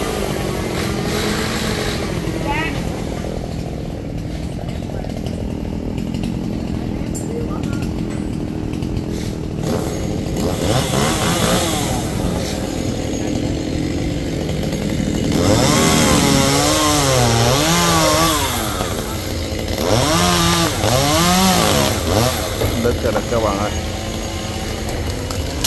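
A chainsaw drones steadily and loudly throughout, cutting a very large kapok tree near power lines in Phu Hoa, its pitch rising and falling as it bites, with some talking mixed in.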